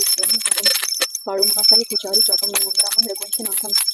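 A small Garuda hand bell rings continuously with a bright, sustained tone beneath a voice singing or chanting a Hindu aarti.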